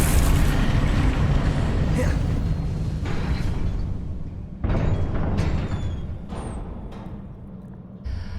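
Confringo fire spell blasts in the Hogwarts Legacy video game: a few heavy, booming explosions with broad rumbling bursts, spaced a couple of seconds apart over a continuous low roar.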